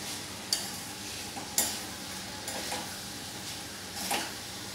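A spoon stirs fodnichi dal, lentils with a spiced tempering and salt, in a pan for a Ganpati prasad dish, giving soft scraping knocks at irregular intervals over a faint, steady sizzle.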